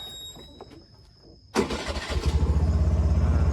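A car engine cranks and catches after a quiet start, then settles into a steady, rhythmic idle close by, fairly loud with no talk.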